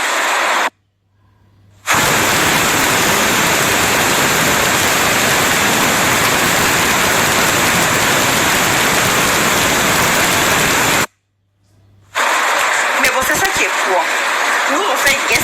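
Heavy rain in Abidjan pours as a dense, loud, even hiss that runs steadily for long stretches, broken by brief gaps and followed by a voice speaking over the downpour.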